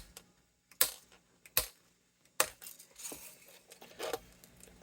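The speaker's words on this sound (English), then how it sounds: "let's do some snipping" Old strings are snipped on a 1979 Gibson Les Paul Custom: four sharp, close metallic clicks come at uneven intervals, each a quick snap with a short ring, over a quiet background.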